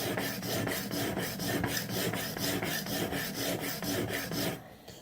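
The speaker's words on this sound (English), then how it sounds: "the moment you touch the knife to the stone" A knife blade rasps back and forth across a sharpening stone in a steady run of about twenty close, evenly paced strokes, each a gritty scrape, before stopping near the end.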